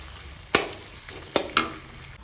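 Meat frying in a kadai for curry gravy, a steady sizzle broken by three sharp scraping stirs of a spatula against the pan, close and fairly loud.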